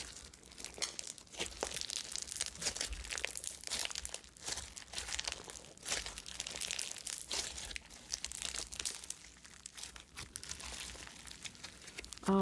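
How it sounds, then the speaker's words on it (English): Crunchy glitter slime packed with foam balls being squished and pressed up close, giving repeated crinkling, crackling pops in an irregular rhythm, with no talking. "But the balls make it like nice and crunchy."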